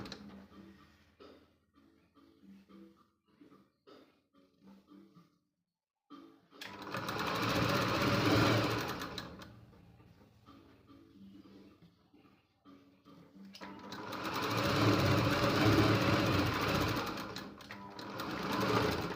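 A sewing machine stitches a strip of fabric onto a four-tuck blouse, running in two loud, steady bursts of whirring with quieter handling and tapping between them.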